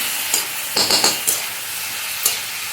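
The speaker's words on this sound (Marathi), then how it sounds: "आपल्याला परतून घ्यायचं सगळा मसाला" Masala stir-fried in a pan for paneer bhaji, a loud continuous sizzle close up with a few distinct stirring scrapes and clinks of a spoon breaking through at irregular moments.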